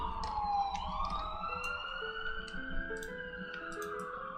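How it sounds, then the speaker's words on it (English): Emergency sirens from a nearby fire station wail in the distance, a rising and falling tone sweeping steadily, faint and continuous, with light ticking sounds scattered over it. "pardon the sirens again."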